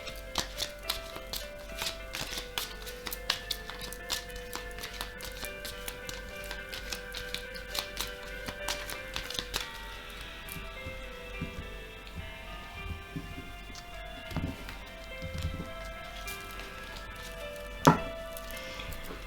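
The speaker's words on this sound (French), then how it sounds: "Donc je mélange les cartes et c'est parti." A deck of tarot cards is shuffled with soft, rapid flicks and taps that run on quietly and closely, with occasional louder snaps of the cards.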